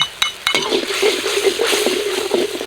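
Water splashes into stir-fry curry paste in a hot pan, followed by steady sizzling and a spatula scraping and clinking against the metal in a repeated stirring rhythm.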